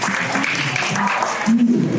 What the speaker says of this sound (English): A round of applause for Kathy, please.